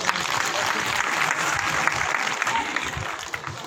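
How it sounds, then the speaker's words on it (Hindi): Enthusiastic audience applause rings out at a school farewell gathering following a speech, dense and close, with a faint voice underneath near the end. "एक बार जोरदार और तालियां।"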